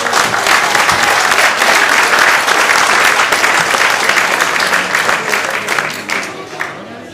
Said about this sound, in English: A round of applause for Catherine, please.